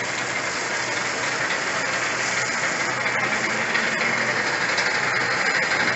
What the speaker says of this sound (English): Here comes heavy equipment.